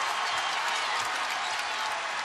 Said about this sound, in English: The crowd loved that.